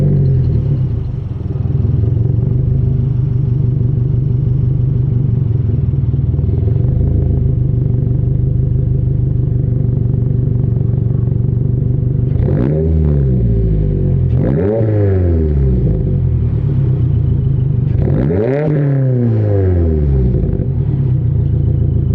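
A car with an aftermarket exhaust idles with a deep, droning burble, then gets three sharp revs that rise and fall back to idle, loud and close.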